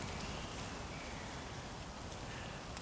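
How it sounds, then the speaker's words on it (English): Dew shaken loose by a light wind patters down from leaves like soft rain after an overnight mist, a steady, faint, even hiss of scattered drops with no voices. "the wind is blowing a little bit, and it's all the dew on the leaves is blowing down like rain"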